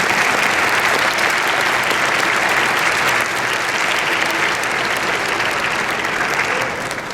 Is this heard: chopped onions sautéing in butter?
no